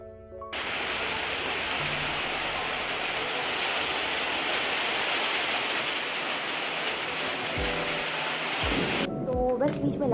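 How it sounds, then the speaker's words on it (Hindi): Real rain pours steadily and heavily in the background at home, a dense, unbroken hiss, with a few low thundery rumbles near the end. "ये रियल में पीछे बारिश हो रही थी उसकी वॉइस है"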